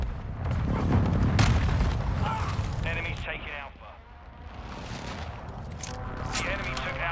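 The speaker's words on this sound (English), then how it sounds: "Enemy precision airstrike" Enemy precision airstrike explosions in Call of Duty: Modern Warfare II, a run of heavy booming blasts and rumbling impacts that swell and fade over several seconds, with battlefield chatter and radio voices mixed in.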